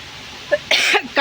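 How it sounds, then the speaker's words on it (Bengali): Two or three sharp, close coughs in quick succession, with brief pauses between them, no talking. "আমার কাশি উঠে গেল রে হাওয়াতে"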